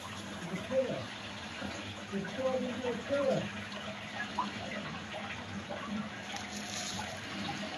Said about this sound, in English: You can hear the water, water roaring in the distance down that little pot